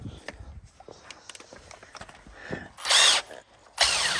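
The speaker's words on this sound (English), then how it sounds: "You grab your drill." A cordless power drill fitted with a scrubbing brush works over wet carpet during a custom VZ ute interior build, whirring in short bursts with louder spurts near the end, mixed with handling clatter and a few footsteps.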